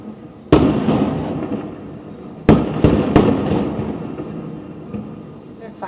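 Fourth of July fireworks boom in several sharp blasts, one then a quick cluster of three, each trailing into a long rumbling echo outdoors, fairly loud and moderately distant.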